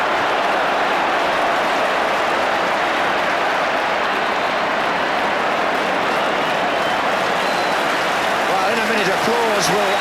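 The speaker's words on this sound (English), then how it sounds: "Applause will echo round Anfield, and it's all for Peter Beardsley" Crowd applause and cheering fill Anfield for Peter Beardsley during Liverpool v Nottingham Forest, a dense, steady roar of the stadium crowd throughout with a match commentator's voice over it.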